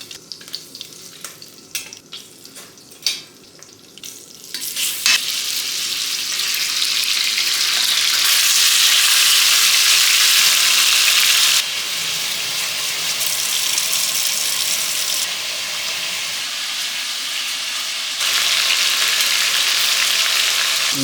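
Beef chunks sizzle loudly in hot tallow for a Hungarian goulash, a steady close-up frying hiss with some stirring at the start and no talking.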